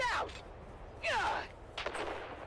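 Grenade blasts in a video game firefight: three separate bursts of explosion and gunfire, each a sharp noisy rush that quickly fades, close and fairly loud, with no talk over them.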